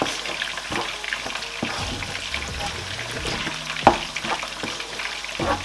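Tomato sizzles in a pot with curry, thyme and chicken as it is stirred, a steady crackling fry under irregular scraping and clinking of the spoon, close and moderately loud.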